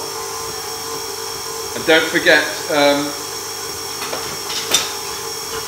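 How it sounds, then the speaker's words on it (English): An electric mixer creaming butter and sugar for cookie dough whirs with a steady motor hum in the background while a person talks over it. "So sorry for the noise there. My mixer is going a bit crazy."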